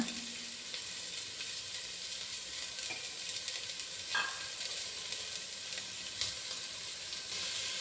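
Chopped ingredients fry in a pot for a one-pot dish, giving a steady, close sizzle throughout with a few stirring clinks and scrapes, no talking.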